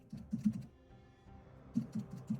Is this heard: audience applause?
no